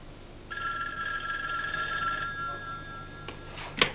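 An old landline telephone bell rings in one long sustained burst, fairly close and clear, then a click as the receiver is picked up near the end.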